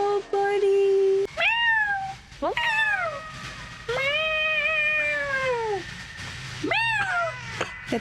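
A kitten in the video game Stray meows repeatedly in long, drawn-out, plaintive cries, loud and near, while people talk over the game sounds.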